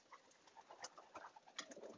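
Pigeons in a racing loft cooing softly over a busy background of scattered bird calls and shuffling, with several short murmuring coos spread through the brief stretch, fairly faint and close.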